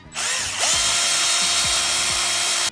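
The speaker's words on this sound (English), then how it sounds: "I'm just going to drill through the metal right there." A power drill whines loudly and steadily, biting through metal of a saw blade with a slight dip in pitch as it starts, then a sustained high grinding tone.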